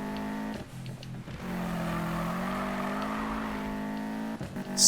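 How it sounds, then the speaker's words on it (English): A Subaru WRX STI in the Need for Speed 2015 racing game, its engine droning steadily at close range as the all-wheel-drive car slides, with pitch shifting slightly and a short burst of noise near the end. "we can definitely pop this thing into a slide"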